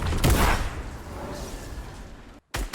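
A single loud gunshot cracks out while the player floats in a rift in the video game Fortnite, followed by a sustained rushing wash of noise that cuts off briefly near the end.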